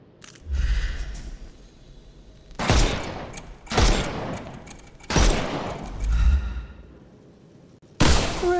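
Gunfire in the video game Sherlock Holmes Chapter One: several loud, sharp bursts of shots in separate volleys, spaced a second or so apart, with whooshing impacts over a low game backdrop.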